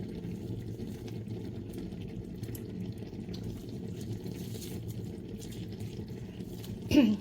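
A faint, steady bubbling rumble of liquid boiling in a pot, continuous and low, with a brief louder clatter near the end.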